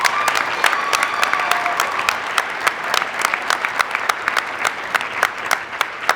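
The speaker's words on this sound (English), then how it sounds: "let's give her a special round of applause" An audience at a winter commencement ceremony applauds for a graduate, with dense, sustained clapping and individual sharp claps standing out, carrying on steadily for several seconds with faint crowd murmur beneath.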